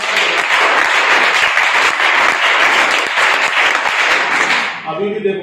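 A large group of NSS volunteers claps together in a loud, dense, continuous burst that stops abruptly near the end.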